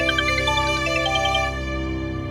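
A phone rings with a bright, repeating melodic ringtone for an incoming call, steady and clear before cutting off partway through.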